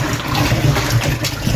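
Cut pieces of corn are rinsed under running water in a home kitchen, giving a steady close splashing rush for a brief moment.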